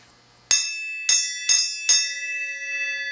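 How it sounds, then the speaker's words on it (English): A metal bell in a garage workshop is struck four times in quick succession, each strike ringing bright and loud with long overlapping tones that fade after the last hit. "would you ring the bell, mister?"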